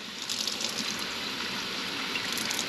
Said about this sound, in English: put some water in there.